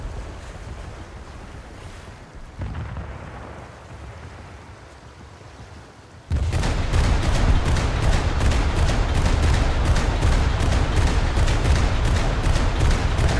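Ship guns fire during a naval video game battle among coastal vessels: a windy sea-like rumble first, then halfway through a loud, steady barrage of rapid, evenly spaced shots continues to the end.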